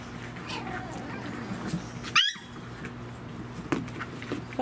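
Dog whimpering near the end of a short burst of puppy play, a brief high whine rising over faint background noise while people talk nearby.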